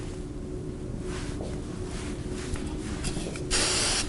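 Near the end, a short loud burst of hairspray hisses onto styled, pinned short hair, following a stretch of quiet room noise and faint rustling.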